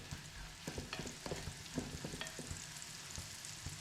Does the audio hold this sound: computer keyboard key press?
no